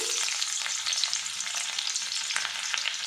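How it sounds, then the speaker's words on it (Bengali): Chopped garlic frying in hot white oil in a kadai, a steady close crackling sizzle with bright spattering pops throughout and no voices. "তেল গরম হয়ে গেছে এর মধ্যে দিয়ে দেবো রসুন কুচি"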